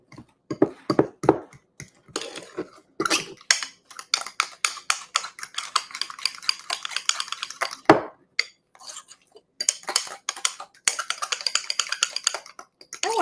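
A spoon or whisk clinks and scrapes steadily against a bowl while French toast batter is mixed, making rapid irregular tapping with a few louder knocks, close and continuous with no talking.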